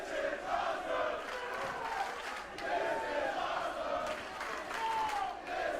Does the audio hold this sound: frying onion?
no